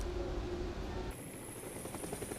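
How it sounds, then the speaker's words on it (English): A helicopter ferries containers toward a station in Antarctica, its steady rotor drone continuous and fairly loud, with a tonal hum shifting partway through. "helicopters will transport containers to the station"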